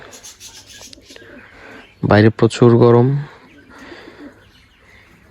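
Soft, low coos of exotic pigeons murmur in the background while someone briefly speaks over them.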